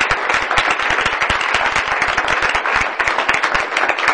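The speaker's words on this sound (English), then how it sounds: "yeah, just applause for that" An audience at a New Orleans meeting on environmental issues claps loudly and steadily, the close, dense applause running unbroken from start to finish.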